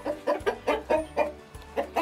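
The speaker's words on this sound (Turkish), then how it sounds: "9 tane tavuğumuz var. 3 tane de horozumuz var." Australorp hens and roosters in a coop cluck close by in a quick, repeated run of short calls, about eight bursts in two seconds, with no talking.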